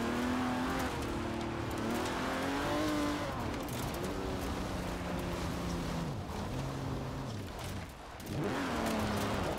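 Restored barn-find car in Forza Horizon 4 driving along a dirt road, its engine droning and revving steadily with rising and falling pitch, briefly easing off near the end before picking up again.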